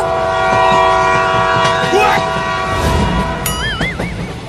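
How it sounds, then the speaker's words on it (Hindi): A cartoon train races off with tonal horn or whistle blasts and rising, wavering effect tones over a busy rumbling background, loud and continuous throughout. "वो दोनों तो ट्रेन को लेकर भागने लगे"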